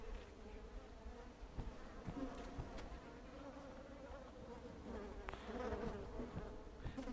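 Wasps buzz steadily around a nest in the Hausmeister video game, a dense droning swarm that carries on throughout with no talk over it.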